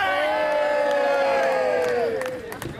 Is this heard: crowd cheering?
yes